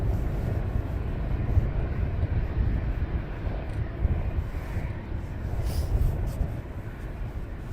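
An airplane at Luton Airport produces a continuous low rumbling roar, heard at some distance against broadband noise, with no talking.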